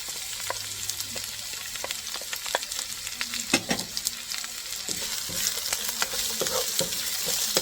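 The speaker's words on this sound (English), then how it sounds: "Now we can add our onion." Onion fries in a pan while preparing milkfish, giving a continuous soft sizzle with frequent light stirring clicks and scrapes that grow busier toward the end, close and without talking.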